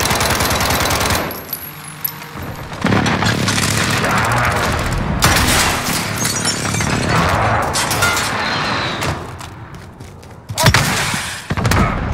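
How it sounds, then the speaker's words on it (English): Precision airstrike explosions in a hardcore Call of Duty match: a long run of heavy blasts and rattling gunfire, dense and loud throughout, with a sharp burst near the end. "Enemy precision airstrike inbound."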